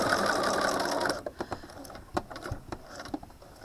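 A sewing machine stitching a string bag runs in a loud, steady whir for about a second, then stops and gives way to scattered clicks and taps as the fabric is repositioned.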